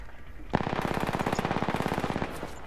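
Rapid automatic gunfire in a video game bursts out suddenly and rattles in an even, fast rhythm for under two seconds before cutting off, loud and close with a faint background hum.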